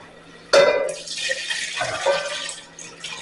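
Marinade for beef bourguignon poured into a pot over low heat, a sudden splash of liquid followed by a steady, close pouring and trickling sound with no talk.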